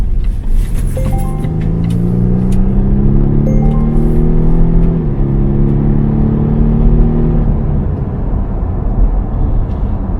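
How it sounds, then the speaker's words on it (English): A 400-horsepower car accelerates hard up a hill, its engine loud and close, droning steadily higher through one gear before a shift and another sustained pull. "Try and accelerate up the hill with all this thing has got."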